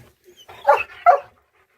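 A dog gives two quick, sharp barks close by on a jungle cave walk in the Dominican Republic, with brief silence before and after.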